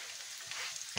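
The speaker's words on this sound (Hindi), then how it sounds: "और अब हम डाल देंगे ये पत्ता गोभी। तो ये सब अब हाई फ्लेम में ही बनेगा ये" Shredded cabbage hitting hot oil in an iron wok over a high flame while making veg hakka noodles, a steady close sizzle and crackle with a louder burst of frying at the very end.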